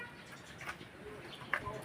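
Pigeons kept by a breeder coo softly in a loft. The faint calls come in brief bursts, with a human voice murmuring underneath.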